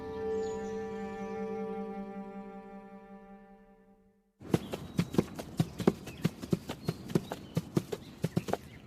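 Horse hooves clip-clop steadily in an anime scene, a crisp regular rhythm of hoof strikes starting abruptly after a sustained musical tone fades out.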